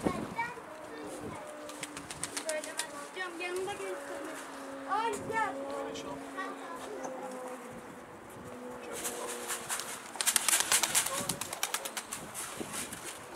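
Tumbler pigeons cooing nearby with soft repeated calls, joined by bursts of wing flapping and buzzing insects, while people talk intermittently over the birds.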